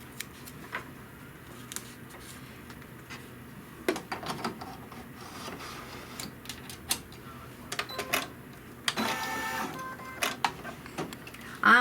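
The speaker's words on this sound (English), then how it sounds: "now it'll stitch the tack down is step number 4" An embroidery machine stitches a tack-down step on a Kimberbell Happy As A Lark trapunto pillow over flex foam, giving irregular clicking and rapid needle bursts close by, with no talk.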